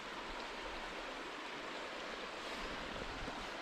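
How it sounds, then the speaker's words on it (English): A Scottish burn running full after a spell of wet weather, its rushing water a steady, dense roar that stays close and unbroken throughout with no voices. "Oh, aye, the burn's fairly flowing."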